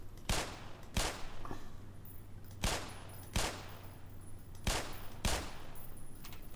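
Gunfire in the video game Black Mesa: sharp single shots come in quick pairs, about six blasts in all, loud and close over a steady low hum.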